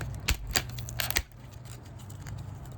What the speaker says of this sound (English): Brought my scissors, but this is the, oh yeah, this is some brittle plastic.